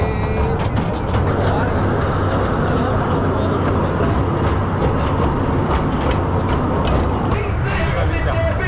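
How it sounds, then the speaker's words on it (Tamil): A train travelling to a Queensland theme park rumbles loudly and steadily on its rails, with a continuous roar and faint rhythmic clatter heard from on board. "அடுத்ததாக இங்கேருந்து ட்ரெயினில் கிளம்பிட்டோம்"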